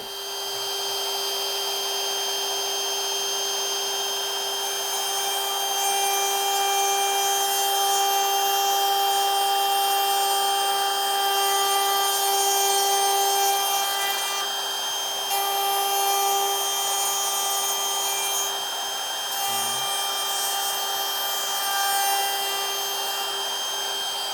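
A router runs steadily at high speed while cutting a hinge mortise in a wooden box, a loud continuous whine with a constant pitch and only slight shifts in load.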